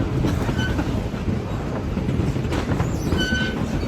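Continuous heavy rumble of a steam train rolling on rails in Bryson City, North Carolina, with rhythmic clatter and occasional high wheel squeals, heard from inside a first-class car.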